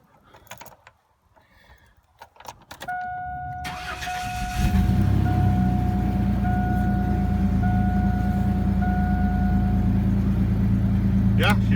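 Cold start of a 2001 Chevy S10 crew cab 4x4 pickup truck: a few mechanical clicks, a whirring starter crank with whine, then the engine catches and settles into a loud, steady, close idle.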